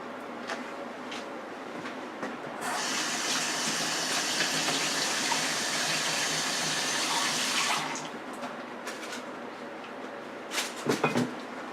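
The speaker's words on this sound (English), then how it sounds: "let me just wash my hands" Tap water gushes steadily into a kitchen sink for several seconds while hands are washed, then shuts off, followed by a few soft clicks and knocks nearby.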